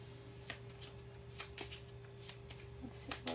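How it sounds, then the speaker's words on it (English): Oracle cards are shuffled by hand in a quiet room, giving a series of soft, quick riffling and slapping bursts spaced irregularly through the clip, close to the microphone with no talking. "Oh, I didn't even want to shuffle."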